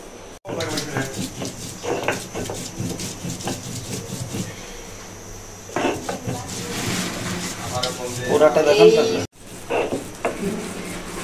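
Cumin seeds ground by hand into a spice paste for a Bengali rohu fish, bitter gourd and potato curry, making repeated rough rubbing and scraping strokes with scattered kitchen clatter and a voice in the background.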